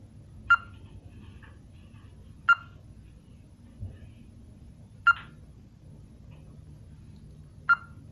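Four short electronic beeps sound at spaced, fairly regular intervals over a quiet low hum, with nothing else happening between them.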